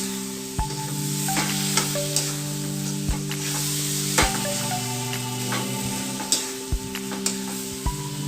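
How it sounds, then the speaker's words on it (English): Curry-sized chicken pieces fry in masala for a beetroot chicken curry, with a loud, close, continuous sizzle broken by repeated sharp clinks and scrapes of a spoon stirring the pan. "I'm going to let it fry for a while until the masala penetrates through the meat."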